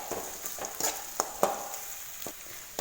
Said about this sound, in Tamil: வெங்காயமும் பூண்டு பார்த்திங்கன்னா நல்லா வதங்கிட்டு பாருங்கள்.